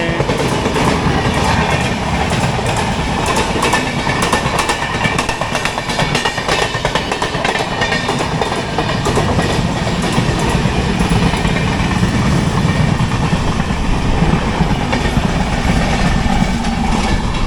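The Patna Lokmanya Tilak Terminus Express passes close by with a loud, steady rumble and a rhythmic clickety-clack of wheels on rails throughout.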